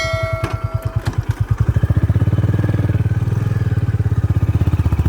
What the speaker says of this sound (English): Let's ride this motorcycle without wasting any time.